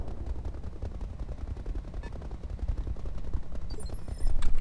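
Turrets firing in the Roguetech video game, a rapid, continuous stream of mechanical gunfire hammering along steadily and getting louder near the end, with no voices.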